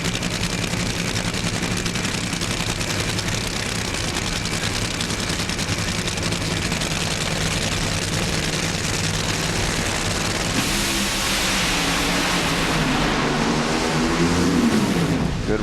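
Nitro Top Fuel dragsters roar down the strip at the 2009 Atlanta race, Jack Beckman against John Force, as a continuous loud crackling thunder that fills the air and swells toward the end, with a faint announcer voice underneath.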